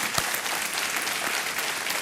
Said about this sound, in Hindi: तालियों के साथ इनका स्वागत आज हम करते हैं अपने इस कार्यक्रम में